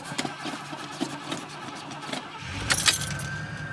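A car is started after a few pumps of the pedal and settles into a running idle, the engine catching near the end after some light clicks and key jingles.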